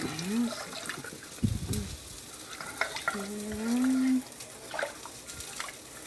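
Bouillon gravy is stirred in a pan as it sizzles, with scraping strokes and bubbling liquid at close range and a person talking intermittently over it.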